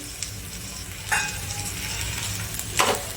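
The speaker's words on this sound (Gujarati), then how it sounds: "હવે આપણે આમાં ટામેટા નાખીશું" Tomatoes tipped into sweet corn bhusu frying in oil, a close, steady sizzle broken by two bright bursts of crackle as the pieces hit the pan.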